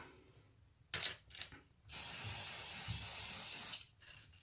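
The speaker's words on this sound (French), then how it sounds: "je vais repasser un petit coup de bombe" Spray paint can hissing onto a boho wall decoration: a few short bursts, then one long, loud, steady spray lasting about two seconds, close up with no talking.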